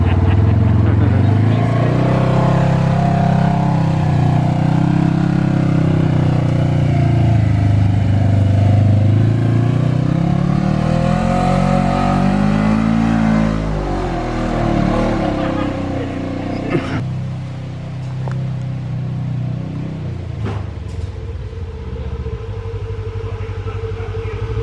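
A Polaris RZR off-road vehicle's engine labours uphill, its loud, close drone rising and falling in pitch with throttle throughout, with a few knocks and bumps near the end.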